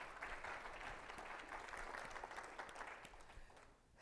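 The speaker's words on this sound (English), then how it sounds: "Give another round of applause for Matthew." Audience applause for a speaker at the GROWCON business conference, a dense, steady wash of clapping that holds for about four seconds before thinning slightly at the end.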